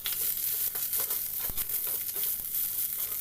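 Steady, close sizzling of pointed gourd frying in hot oil, with a light scrape of stirring partway through.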